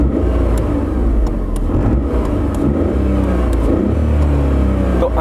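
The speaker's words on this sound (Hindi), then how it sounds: "मैं थोड़ा सा रेव करता हूँ आपको।" A Tata Tiago's engine revving, heard from inside the cabin as a steady, loud low-pitched drone that holds throughout with slight rises and no talk over it.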